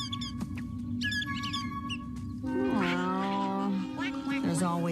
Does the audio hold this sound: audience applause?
no